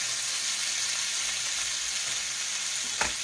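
Chicken drumsticks and potatoes fry in a pan with a steady, dense sizzle close by, and one brief knock of a utensil near the end. No one speaks.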